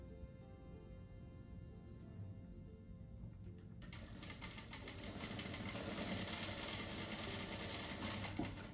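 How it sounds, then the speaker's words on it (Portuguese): Sewing machine stitching patchwork strips for a rug, a soft low motor hum that swells into a steady, louder whirring run of stitching partway through and keeps going. "Ó, agora eu vou costurar aqui no meio"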